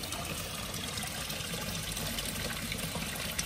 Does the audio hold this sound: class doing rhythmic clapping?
no